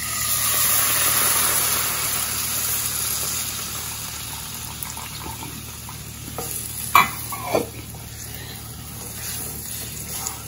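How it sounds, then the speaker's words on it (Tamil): Jaggery syrup heats over low flame in a pan, starting to simmer with a steady soft sizzle and bubbling that fades slightly, followed by a couple of brief stirring knocks near the end. "இப்போ கொஞ்சம் லேசாக கொதிக்க ஆரம்பிக்குது"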